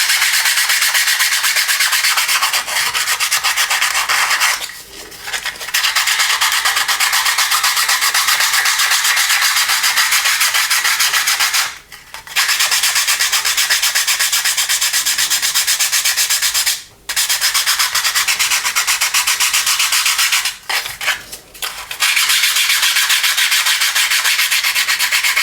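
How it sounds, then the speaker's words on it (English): Sandpaper rubs steadily against the plastic wing tips of an Airfix Handley Page Hampden model kit, a close, continuous scratchy hiss broken by a few brief pauses. "These wing tips are a bit chunky. I've already profiled the top one, so I'm just sanding that."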